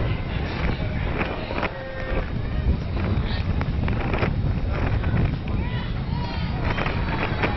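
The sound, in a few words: strong wind at a softball field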